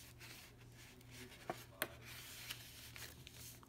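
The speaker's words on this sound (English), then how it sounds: "I first want to show you that this card will fit right into the envelope." Paper rubbing and sliding as a handmade twist card is pushed into an envelope, a soft continuous scraping with a few sharp taps, close and quiet, no talking.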